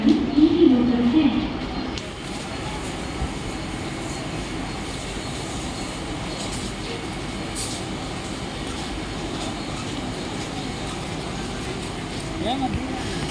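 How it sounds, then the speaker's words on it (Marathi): A Kalyan-bound Mumbai local train stands at platform 1 of a station at night, a steady low rumble with faint metallic creaks, heard beneath a platform announcement voice. "प्लॅटफॉर्म क्रमांक 1 वर आलेली लोकल 8:50 कल्याणला जाणारी हिमी लोकल आहे।"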